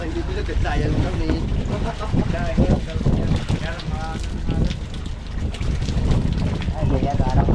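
Wind gusts buffet the microphone near the shore on Bucas Grande Island during water fetching, a loud rough rushing that rises and falls throughout while people talk over it.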